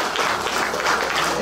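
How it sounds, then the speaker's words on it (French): An audience at a cosplay contest applauds, a dense, steady burst of many hands clapping at close range for about a second and a half. "On peut les applaudir."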